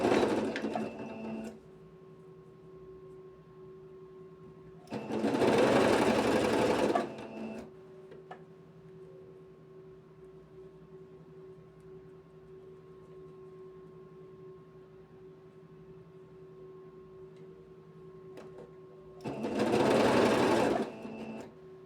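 Sewing machine stitching a fabric hem on a gypsy-style blouse, running in three separate bursts with quiet pauses between them, close and clear with no talk.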